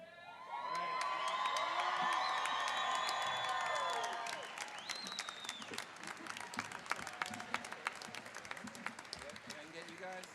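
A convocation audience bursts into loud cheering, whoops and shouts for about three seconds, then settles into sustained clapping that thins out, with voices mixed throughout.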